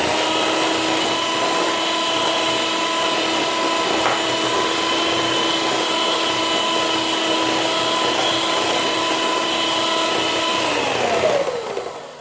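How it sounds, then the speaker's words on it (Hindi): An electric beater whips sugar and ghee together for nan khatai biscuits. It gives a steady, loud motor whine for about eleven seconds, then winds down and stops. "इसको 1 मिनट के लिए मैं बीट करूंगी ताकि ये अच्छी तरह से इनकॉर्पोरेट हो जाए।"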